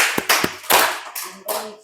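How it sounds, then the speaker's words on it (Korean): Church congregation clapping during a Sunday sermon, a few loud, close, uneven bursts of hand claps with short gaps between them. "예, 박수."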